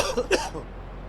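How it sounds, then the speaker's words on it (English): A single short cough, muffled and somewhat distant as if from another room. "coughing comes from the next room"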